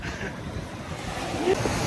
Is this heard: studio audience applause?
no